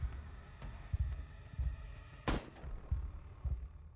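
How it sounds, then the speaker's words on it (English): A single loud pistol gunshot in the video game Scarlet Hollow, a sharp broadband crack midway through, standing out over a low rumbling, thudding background with no talk. "The gun goes off."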